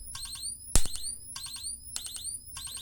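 Vintage Russian strobe beacons firing from high voltage triggers, giving repeated clusters of sharp ticks with rising high whines, plus one loud crack, close and without speech.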